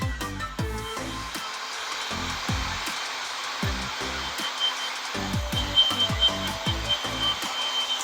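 A heat gun blows on the wire ends during an e-bike battery build, making a steady airy hiss that runs throughout under intermittent low, thumping tones.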